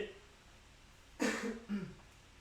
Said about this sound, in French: On tousse pas dans la nourriture